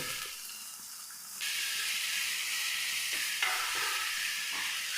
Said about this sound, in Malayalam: നമ്മുടെ സവോള ഇതിലേക്ക് നമ്മൾ ഉപ്പ് ചേർത്ത് കൊടുക്കുക പെട്ടെന്നൊന്ന് വഴണ്ട് വരും ഉള്ളിൽ